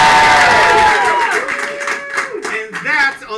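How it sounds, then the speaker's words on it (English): A studio audience at a comedy show cheers and claps on cue, with loud shouts and whoops rising and falling over scattered applause. "Let's all go crazy with applause now."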